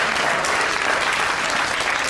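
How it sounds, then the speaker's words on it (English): A studio audience on a comedy panel show breaks into sustained, steady applause, mostly women clapping, a dense even patter that holds throughout without any talk. "all the women were clapping then"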